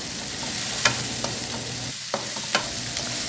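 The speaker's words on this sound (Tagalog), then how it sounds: "isunod na natin ang tomatoes. Bilisin lang mabuti tulad ng ginawa natin before sa pag-saute." Tomatoes sauté in a pan, a continuous sizzling hiss punctuated by a handful of sharp scrapes and taps of a utensil stirring.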